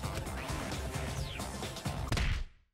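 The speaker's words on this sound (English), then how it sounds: "Oh, slam. A dull sound reverberating through the room." A loud, dense crash and thud with a whooshing sweep, a slam sound effect in the game Danganronpa V3: Killing Harmony, ending in a heavy impact that quickly cuts to silence.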